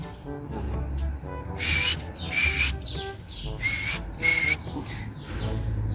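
Pigeons calling in a series of squawking, whistle-like bursts, moderately close, over a steady low rumble of background noise.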